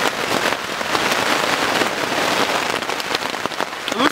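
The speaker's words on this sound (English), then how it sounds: "it's been raining like lightly" Light rain falls steadily outdoors during a long walk, a close, even patter of drops with occasional sharper taps and no talking.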